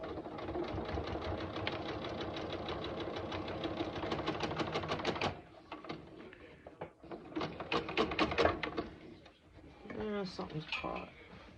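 A sewing machine stitches a back panel down in a fast, steady run for about five seconds, then stops and starts in shorter bursts. Speech-like sounds come up near the end.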